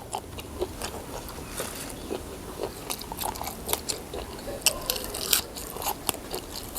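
Close crunchy chewing of spicy giant squid topped with seafood sauce, a steady run of crisp bites and wet crackles with no talking.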